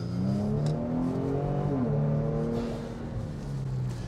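A Kia Stinger AWD accelerates hard in second gear from about 3,000 RPM in winter weather, its engine note loud and close, rising steadily and continuously under a harmonic drone, with no speech.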